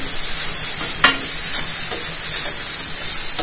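Carrots for gajar halwa are stir-fried in a pan, giving a loud, steady sizzling hiss with occasional soft scraping stirs, close up and without talk.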